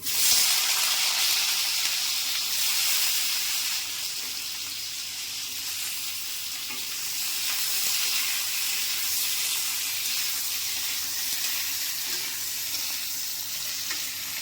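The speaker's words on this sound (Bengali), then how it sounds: "এবার বেগুনটা ভেজে নিচ্ছি।" Eggplant fries in a pan over a medium flame, giving off a continuous, even, close sizzle with a bright hiss that holds steady throughout. Nobody is talking.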